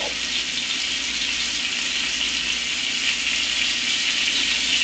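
Chicken pieces fry and brown in a pan on a stovetop, giving off a steady, close hiss of sizzling oil that stays constant throughout with no talking.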